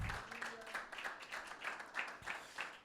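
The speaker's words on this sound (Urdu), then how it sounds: "یسوع کے لیے تالیاں بجائیں کلیسیا" A church congregation claps for Jesus in a steady, loud patter of many hands, with a voice speaking over the applause.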